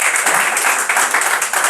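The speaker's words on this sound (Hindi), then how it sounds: "ताली बजाओ यार।" An audience claps at a Hindi poetry (nazm) recital, giving steady, dense applause that stays fairly loud and even for the whole short stretch with no voices over it.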